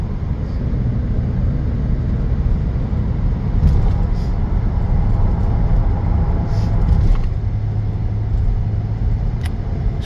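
Car driving on a highway: a steady low road rumble and engine drone from inside the vehicle, constant and fairly loud for the whole stretch, with faint passing sounds and no clear speech.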